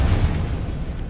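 Depulso spell cast in Hogwarts Legacy, a brief deep boom-like burst with a low rumbling blast up close, fading quickly in a single short hit.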